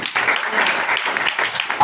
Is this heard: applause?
yes